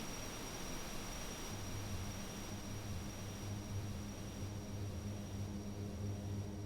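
Steady drone of a light aircraft engine in flight over a seaplane base near Oshkosh, continuous and even with a constant propeller hum and no talk.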